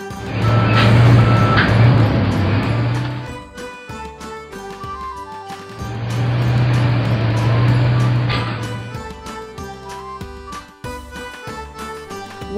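A forklift reversing, its backup alarm beeping steadily over a loud engine drone that swells, fades briefly, then returns, with no voices.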